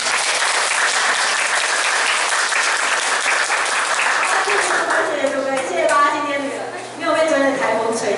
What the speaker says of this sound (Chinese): 请热烈掌声来欢迎今天的老师姐姐